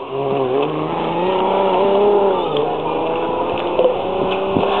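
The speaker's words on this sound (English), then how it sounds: "Ford Zetec engine with twin Weber carbs and produces around about 180 brake horsepower" Race car with a Ford Zetec engine on twin Weber carburettors, about 180 brake horsepower, at a chicane on a circuit: a loud, close engine holding a sustained droning note that dips and rises as it lifts off and gets back on the power.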